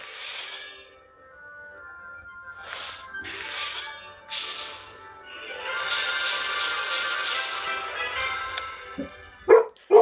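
A dog barks at a neighbor in a mobile game timed event: bursts of yapping spread across the clip, loud and close, with louder sharp yips near the end and no speech.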